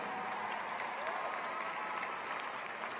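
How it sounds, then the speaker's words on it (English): Commencement crowd at UNC Greensboro applauding graduates' families, a broad, distant wash of clapping from a large audience, fairly soft and continuous throughout. "Give them a round of applause."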